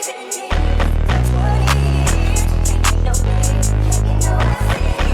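Sexy drill beat made in FL Studio at 154 BPM, with deep sliding 808 bass notes under bright hi-hats and melodic layers, loud and continuous, briefly dropping out near the end.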